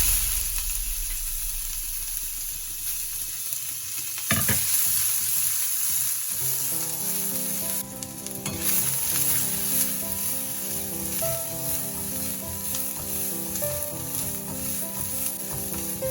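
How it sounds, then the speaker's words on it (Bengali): A medium-sized onion fries in a pan after dried chillies are removed, a steady loud sizzle with stirring scrapes, joined partway by a faint tonal background line. "এবার এর মধ্যে আমি একটু পেঁয়াজ ভেজে নেব"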